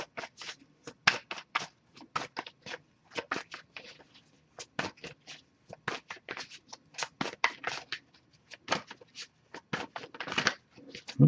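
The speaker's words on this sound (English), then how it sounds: "If I shuffle for a while without anything coming up" A deck of tarot cards is shuffled up close in quick bursts of riffling and sliding, with short pauses between the rounds of shuffling.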